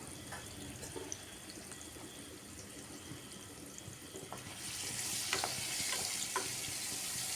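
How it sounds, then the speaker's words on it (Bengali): Potatoes coated in turmeric and salt fry in a pan, a soft steady sizzle broken by faint stirring knocks. About halfway through the sizzle turns louder and more hissing, and no one speaks. "বারবার নাড়িয়ে এইভাবে আলুটাকে আমি একটু লাল লাল করে ভেজে নিচ্ছি।"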